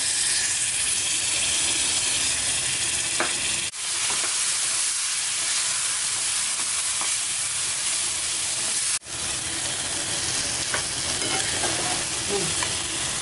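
Semolina cooking in a pan with ghee and mango juice, a steady close sizzle and hiss with stirring, broken by two brief sharp scrapes or knocks, no voices.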